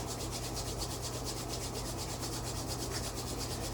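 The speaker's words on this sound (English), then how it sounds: "Bring the palms together and just give the hands a little bit of rub." Palms rubbing briskly together to build heat during a guided gratitude practice, a steady close, continuous brushing hiss that keeps an even rhythm throughout with no talk.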